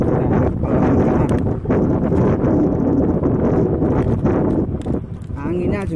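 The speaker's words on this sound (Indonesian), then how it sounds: "anginnya juga kencang" Strong wind buffets the microphone while riding along an extreme, winding cliffside road, a constant loud roar with gusts, and a voice talks over it.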